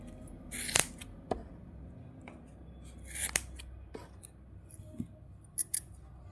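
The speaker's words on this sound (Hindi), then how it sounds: "इधर नीचे ये कैंची से काट देंगे।" Scissors snipping through wool yarn while making a knitted braided baby cap, several sharp separate cuts spaced over a few seconds, close and crisp in a quiet room.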